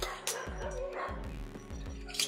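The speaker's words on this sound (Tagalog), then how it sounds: "Yung mga aso, Brad." Dogs barking in a video game, several repeated yips and barks in a fairly steady rhythm, moderately close and somewhat faint, with game sounds in the background.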